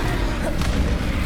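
A Bombarda blasting spell explodes in Hogwarts Legacy with a dense, rumbling boom that fills the whole moment at close range. Speech sits faintly underneath.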